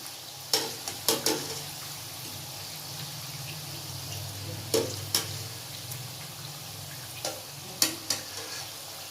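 Murukku fry in oil over a medium flame with a steady soft bubbling sizzle, broken by scattered sharp clicks and taps of a utensil against the pan; fairly quiet and close, with no voices.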